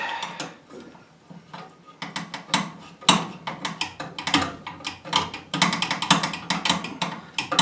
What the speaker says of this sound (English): We're going to put them in the slot, 1/4 inch nut driver.